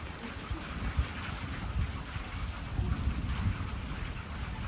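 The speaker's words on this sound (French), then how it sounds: "Avec une activité électrique assez importante." Strong thunderstorm over Corrèze: a dense, steady wash of heavy rain with deep thunder rumbling underneath, continuous and fairly close, with no speech.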